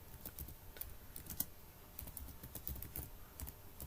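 Keys clack in quick irregular bursts on a computer keyboard while C code for arithmetic operators is typed, with brief pauses between runs of keystrokes and no talking.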